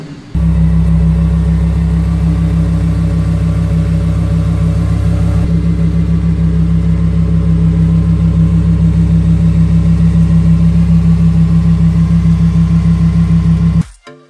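A Lamborghini's engine idles with a steady, deep, loud rumble while the car is reversed and parked, the low drone continuous for about fourteen seconds before cutting off abruptly.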